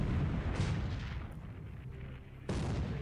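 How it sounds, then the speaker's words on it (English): A warship's internal explosion in a naval war video game roars as a loud, sustained rumbling blast, with a second surge of the boom near the end and no voices. "Internal explosion."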